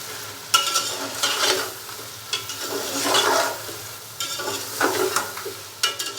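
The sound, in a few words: chicken frying and stirring in ghee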